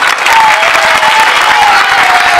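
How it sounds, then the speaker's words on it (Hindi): Loud, sustained applause from an audience at a school magic show in Meerut, India, a dense crowd clapping throughout with a faint tonal hum beneath. "ताली बजाओ जोर से"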